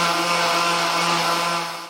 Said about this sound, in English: we're going to take the sander and sand it while that glue is still a little bit wet